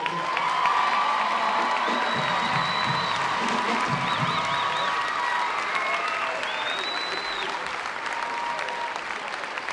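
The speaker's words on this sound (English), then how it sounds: "Give a nice round of applause for both of these ball clubs here." A crowd applauds and cheers loudly in a gym at a 2009 Vermont Division 3 high school basketball championship trophy presentation, with whoops and children's shouts over continuous clapping that lasts throughout.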